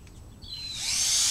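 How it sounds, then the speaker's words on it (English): Magnetic screwdriver driving a screw into a wooden honey bee box, a short whirring spin that builds and grows louder near the end, heard alone. "then we'll put them on with a magnet screwdriver."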